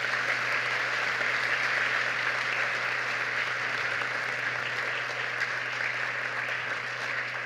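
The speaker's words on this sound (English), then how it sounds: "Let's give them a round of applause." Steady applause from an audience at a closing ceremony, a dense even wash of clapping held at a moderate level throughout with no talk over it.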